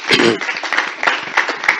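Applause from a conference audience at an international women's rights event for March 8, a dense burst of many hands clapping close by, steady and sustained for the whole stretch with no talk over it.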